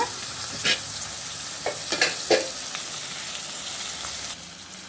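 Prawns frying with onions in a pan give a steady bright sizzle, with a few sharp scraping clinks of stirring near the start.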